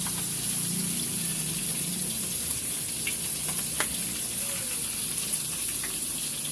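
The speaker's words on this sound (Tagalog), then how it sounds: "Magigisa na po tayo." Steady, close hiss of pesa fish soup ingredients sautéing in a pan, with a few faint clinks over a continuous sizzle.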